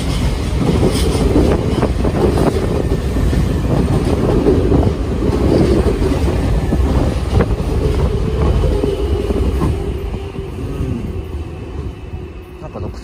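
An older Nankai Koya Line local commuter train passes close by with a loud, sustained rumble and rhythmic wheel clatter that eases and fades near the end.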